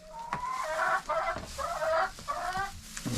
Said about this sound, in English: Yeah, chickens are happy,